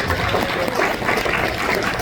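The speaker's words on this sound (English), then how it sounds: "Let's do a round of applause" Comedy club audience at a brunch show clapping together, a dense, steady patter of applause filling the room for a couple of seconds.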